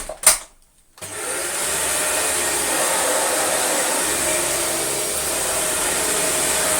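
A Dyson DC40 upright vacuum cleaner works over a rug, starting with a brief gap and then a steady, loud, high-pitched motor whine that holds evenly to the end, with no talking.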